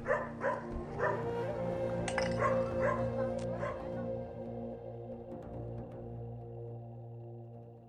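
Terrified, mistreated dogs barking and whimpering, with several sharp barks early on and whining cries continuing beneath a steady low hum, moderately close and fading toward the end.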